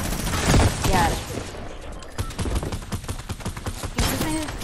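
Rapid bursts of automatic gunfire from a Fortnite match, loud and close, with repeated volleys and crackling shots spread through the clip while a voice speaks underneath.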